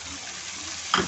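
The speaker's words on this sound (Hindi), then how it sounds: "इसको 2 मिनट फ्राई करेंगे।" Chopped onions fry in oil in a pan for chicken tikka karahi, giving a brief, soft steady sizzle that ends in a sharper scrape or stir near the end.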